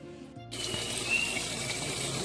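Basmati rice is rinsed under a running tap in a kitchen sink, a steady close splash and gush of water that starts abruptly after a brief quiet moment and carries on without speech.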